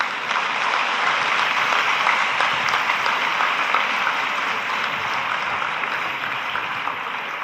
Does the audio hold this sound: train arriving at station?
no